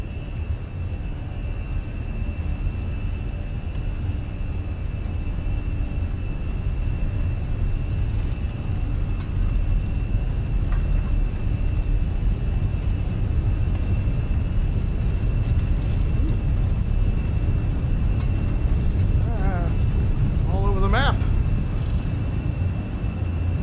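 Jet engines of a Fenix A320 airliner roar at takeoff thrust in Microsoft Flight Simulator, a loud continuous low rumble with a steady whine on top, broken briefly by short electronic tones near the end.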